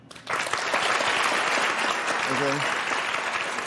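Studio audience applause on a daytime talk show swells quickly into sustained, dense clapping and cheering, with someone briefly speaking over it.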